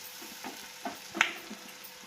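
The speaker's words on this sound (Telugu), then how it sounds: "కలిపేసుకొని ఇప్పుడు కాకరకాయ ముక్కలు వేసేసుకుందాం." Bitter gourd pieces drop into a hot pan for a tamarind stew, raising a soft, steady sizzle with a brief clink of the utensil near the middle and quiet stirring.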